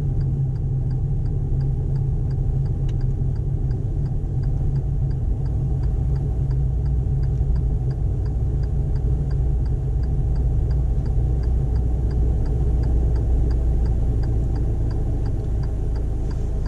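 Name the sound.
car pulling over to park during a driving lesson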